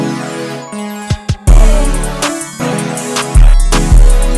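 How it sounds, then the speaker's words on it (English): Record-scratch stutter effect in a hip-hop beat made in FL Studio: choppy, repeated scratch bursts and stuttering cuts over a melody, loud and punchy, with heavy bass hits dropping in partway. "I had this little like stutter thing with the record scratch that sounds like this"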